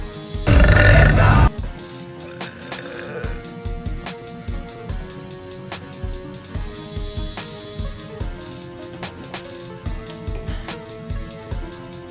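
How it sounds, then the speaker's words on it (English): A woman lets out one long, loud, close burp right at the start, followed by a stretch of quieter, irregular clicking and handling noises. "Here's a video of my pretty girlfriend burping."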